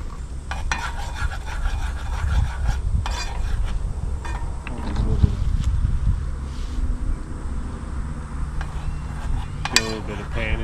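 A flour roux being stirred in a pan as milk is added, for a pie cooked outdoors with a 12V travel oven: steady scraping and rubbing of a utensil against the pan, with occasional clinks and a faint sizzle, close and continuous.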